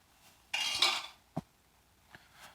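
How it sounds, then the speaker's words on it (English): Kitchen utensils dropped into a bowl of water make a splashy rattle followed by a few sharp, separate metallic clinks, close and fairly quiet, with no talking. "I just throw the utensils in the bowl of water."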